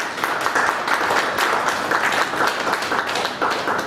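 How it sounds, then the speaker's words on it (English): A room of attendees gives a sustained round of applause welcoming speakers to the dais at a professional seminar, steady dense clapping throughout with no talk. "Can we have a round of applause?"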